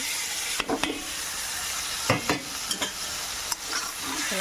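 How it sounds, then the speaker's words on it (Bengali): Shrimp curry with potato and eggplant is stirred in a pan, a soft frying sizzle under repeated scraping spoon strokes that come in uneven bursts, near and clear with no talking. "সুন্দর করে নেড়ে চেড়ে নিচ্ছি"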